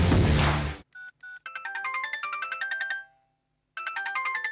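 A mobile phone plays a ringtone for an incoming call: after a brief burst of other sound, a few short beeps lead into a bright, repeating melodic tune that stops and then starts again, clear with no voices.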